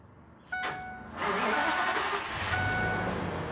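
A Ford V10 truck engine with a blown head gasket cranks briefly, then catches and settles into a loud, steady idle close by, with no talking.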